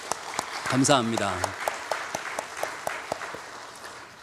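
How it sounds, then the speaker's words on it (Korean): Scattered clapping rises from a church officers' retreat audience, a sparse, fairly quiet series of individual claps at an uneven rhythm, following a brief spoken word near the start. "여러분 모두에게 박수를 한번 드리고 싶습니다."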